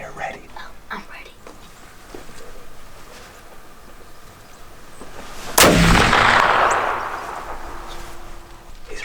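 A single loud gunshot fired at a whitetail buck during an Iowa hunt, a sharp blast partway through with a long rolling echo, preceded by quiet whispered talk and faint rustling.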